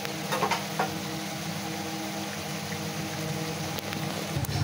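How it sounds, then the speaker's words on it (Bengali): Meat pitha fries in hot oil, giving a continuous close bubbling sizzle with a few light clinks from handling, no voices present. "পিঠা একদম ব্রাউন কালার করে ভাজতেছি"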